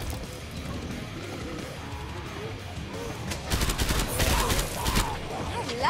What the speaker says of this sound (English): I like shooting them.